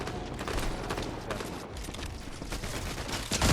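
Bursts of gunfire fill a Fortnite Season 4 ranked match, with rapid overlapping shots and cracks forming a dense, continuous fusillade that stays loud and close for the whole stretch.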